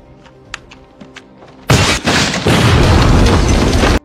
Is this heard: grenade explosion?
yes